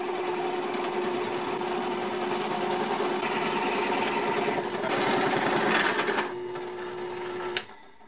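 A cordless drill fitted with a 1-inch spade bit bores through a workpiece, giving a steady, loud motor whine with a rough cutting rasp that rises near the end, then drops as the drill eases off and stops.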